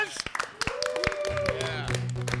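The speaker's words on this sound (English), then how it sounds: "Let's give them a round of applause." A small audience claps for musical guests, scattered sharp hand claps starting sparse and becoming steadier, with a sustained tone and a voice heard over them.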